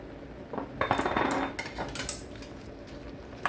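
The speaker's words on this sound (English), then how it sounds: "We'll add some sugar to it now." A spoon clinks and scrapes against a pot while sugar is added to shrimp noodle broth, a short cluster of close metallic taps followed by a few lighter clinks.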